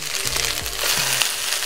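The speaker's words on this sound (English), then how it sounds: "And now I'm gonna just add in my rice." Rice tipped into a hot pan for fried rice, bringing a steady close sizzle with a few soft clinks and shifting scrapes as the grains hit the oil.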